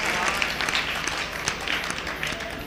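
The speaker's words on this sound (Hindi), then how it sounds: "तो तालियां बजा दीजिए एक बार।" An audience claps in a dense, continuous round of applause, the many hands blending into a steady patter that holds for the whole stretch.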